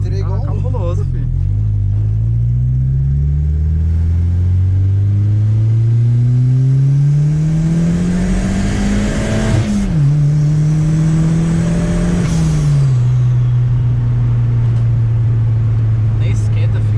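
Chevette car engine making a strange noise, heard from inside as a loud, close drone that climbs steadily in pitch while revving, drops off sharply, then holds steady again, with voices talking over it.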